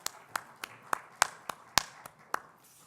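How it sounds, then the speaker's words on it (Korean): A church congregation claps in a slow, regular rhythm, with about nine sharp, distinct claps spaced evenly and quiet in between. "더 힘차게 우리 하나님께 영광의 박수 올려드릴까요?"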